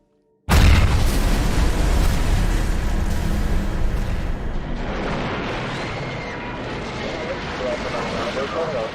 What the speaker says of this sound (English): a 15-pound bomb exploded in the Temple of Peace